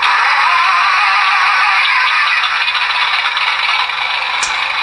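A 1/24 scale Forces of Valor R/C M4A3 Sherman tank's built-in sound unit plays a steady, loud, rattling engine rumble through a small speaker, continuous and alone without pauses.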